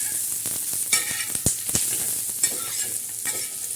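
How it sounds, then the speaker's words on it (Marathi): Chopped onion sizzles steadily in hot oil in a pan while a spoon stirs it, with scraping taps and clinks of the utensil against the pan over a constant bright hiss, close by. "तर असा कांदा भाजूपर्यंत, लाल होऊपर्यंत आपण कांदा असं सारखा परतून घ्यायचा"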